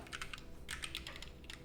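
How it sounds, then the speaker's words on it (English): Close, quick bursts of keystrokes on a computer keyboard, clicking in rapid clusters with brief pauses between them, quiet and alone. "who's collecting information on your typing noise"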